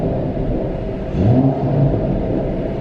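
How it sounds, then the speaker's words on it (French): A Mercedes CLS 53 AMG in Sport Plus mode revs its exhaust, a deep rumbling idle swelling into a short, throaty rise in pitch before settling back, heard close and fairly loud. "On sent la sonorité de l'échappement."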